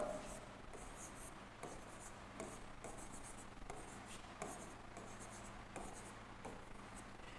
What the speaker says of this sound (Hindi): मैं एक बार नंबर यहां पे भी लिख देता हूं हमारा